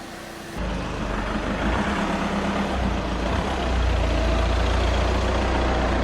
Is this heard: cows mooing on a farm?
no